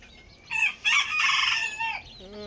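A rooster crows once, loud and near, in a long drawn-out call, with a second bird starting to call faintly at the end.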